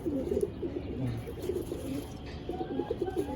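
Soft, throaty cooing from Andhra and Madras pigeons in a loft repeats in a rhythmic run, fairly close and moderately loud, with no talking.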